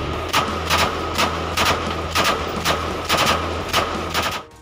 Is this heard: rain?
no